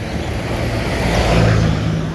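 A car passing close by on a roadside on a rainy day near a temple, a steady loud rush of engine and tyre noise that swells slightly toward the middle and holds for the whole stretch.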